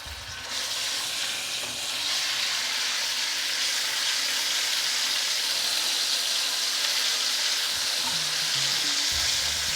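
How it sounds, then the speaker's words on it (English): Garlic and ginger paste frying in a thin layer of oil in a pan makes a steady, loud sizzle that fills the whole span with few breaks and no voices. "the first thing we're going to do is put in the garlic and ginger paste."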